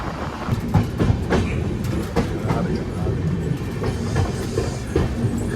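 Passenger train running on rails on a journey from Brahmapur toward Goa, heard from inside the carriage: a steady low rumble with repeated clickety-clack wheel beats over rail joints, with faint voices in the background.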